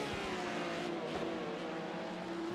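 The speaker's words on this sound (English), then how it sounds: "then like a couple cars go by" Race cars passing by during an online endurance racing game at Sebring, a steady engine drone with a smooth, continuous sweep as a couple of cars go by, no voices.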